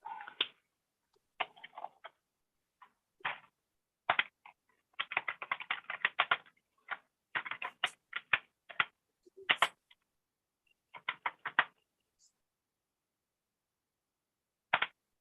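Rapid bursts of typing on a computer keyboard, crisp close-up key clicks arriving in quick clusters separated by short pauses, with no talking over them.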